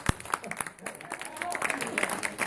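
Audience applause at a Lidia Candy tribute stage show in Italy, a dense, steady patter of clapping that swells and holds for a couple of seconds, mixed with crowd noise and some talking.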